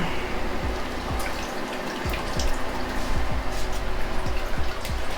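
A plaster-coated gauze strip is dipped in a basin of water, giving close, steady splashing and trickling with a few soft drips throughout.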